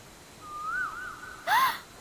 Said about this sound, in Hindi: ये तो कोयल की आवाज है।